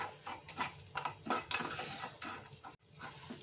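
Whole spices and black or white peppercorns being dry-roasted and stirred in a pan for a tomato soup: a steady close-up scraping and rattling of spoon against metal with small clinks, continuous and fairly quiet, no talking.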